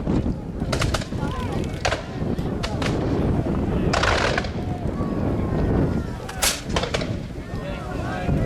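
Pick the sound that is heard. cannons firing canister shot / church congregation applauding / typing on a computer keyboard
cannons firing canister shot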